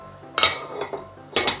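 A lid is set onto a microwave braising pot, giving two sharp clinks about a second apart, with a few softer knocks and rattles between them, close and clear.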